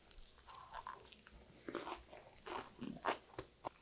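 Crunchy bites and chewing of a salted, seasoned fresh lettuce dish, heard close and quiet as a series of crisp crunches and moist chewing sounds with no talking.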